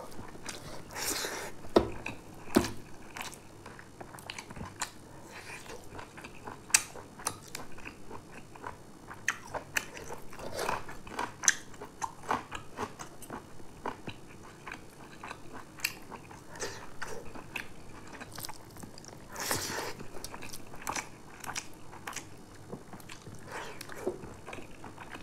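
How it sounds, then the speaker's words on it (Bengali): Someone bites into and chews a raw green chili, with close, irregular crunching bites and wet mastication sounds continuing throughout, no speech. "লঙ্কা খাইতেছে, কাঁচা লঙ্কা।"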